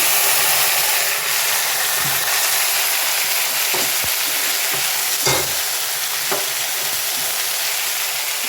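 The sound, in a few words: onions and boiled taro flowers frying in a pan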